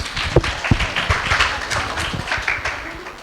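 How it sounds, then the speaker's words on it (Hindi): Applause from an audience at a school Independence Day celebration, welcoming young children coming on to perform a dance; scattered claps and taps, moderately loud, over a few seconds with no speech. "तो उनका हम जोरदार तालियों से स्वागत करते हैं।"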